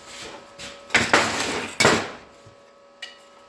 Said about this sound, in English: I'm going to hammer these here